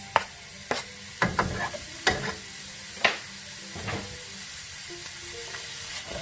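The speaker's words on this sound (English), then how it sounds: "you just cook this up a little bit until some of the oils come out, and then you add your onion" Chopped onion sizzles with sausage in a frying pan, a steady hiss broken by several sharp clacks and scrapes of stirring, close and fairly loud with no talk.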